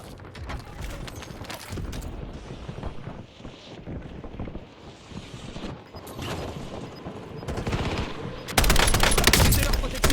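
Rapid automatic gunfire crackles in a first-person video game shooter, dense bursts running throughout and swelling loudest near the end, with wind-like hiss and occasional voice lines mixed underneath.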